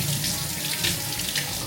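Tap water runs steadily into a kitchen sink to wash sweet potatoes, a continuous close splashing hiss with no other sounds.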